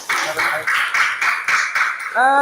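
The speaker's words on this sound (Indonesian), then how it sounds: "tepuk tangan dulu untuk kalian semua" Students clap their hands together in a classroom, about eight quick, sharp, loud claps in a steady rhythm, followed by a short tonal sound at the end.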